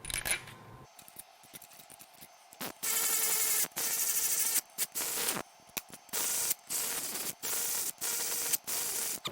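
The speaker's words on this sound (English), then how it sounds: "Now I'm just going to put these bolts in kind of snug." Bolts being fitted and snugged by hand on a Porsche 996, with close metallic clicks and scraping alternating with a repeated burst of hissing, ratchet-like noise in short regular blocks, and no talk.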